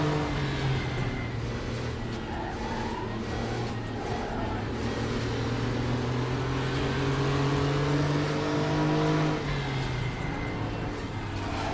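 A Porsche race car engine in the Raceroom racing video game drones loudly and steadily, its pitch swelling and dipping as the car accelerates and shifts, with other engine tones layered underneath throughout.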